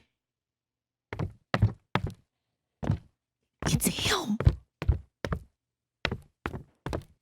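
Footsteps approach outside a door in a radio drama: heavy, dull thuds in an uneven rhythm, fairly close, with a short spoken line partway through before the steps continue.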